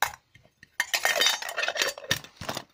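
A camping gas stove canister clinks and clatters as it is handled, several sharp metallic knocks and rattles in short bursts separated by brief quiet.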